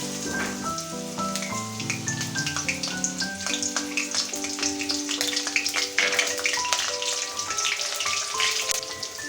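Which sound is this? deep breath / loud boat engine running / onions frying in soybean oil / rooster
onions frying in soybean oil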